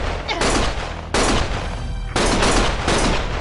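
A loud barrage of gunshots rings out in Lost Judgment, dense overlapping bursts repeating in three heavy waves with booming low end, close and intense, with voices faintly underneath.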